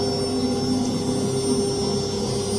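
A CNC router spindle on a cutting machine with a vibration knife head spins up into a loud, steady high-pitched whine with a constant tonal hum, sounding close and unbroken with no talking.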